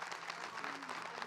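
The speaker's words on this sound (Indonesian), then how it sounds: "silakan tepuk tangan buat guru kita" Studio audience applause on an Indonesian Islamic television talk show, a short steady burst of clapping that stays even from start to end.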